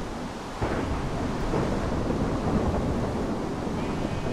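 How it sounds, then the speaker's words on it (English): A heavy thunderstorm rumbles continuously in a video game with a tornado nearby, with dense broadband roar, a low thunder swell starting partway in, and sustained storm noise throughout. "Storm is building intensity, that's for damn sure."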